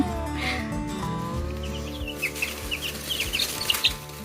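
Young chicks cheep and cluck in a series of quick, high chirps over a steady low hum, with a few soft thumps and rustles.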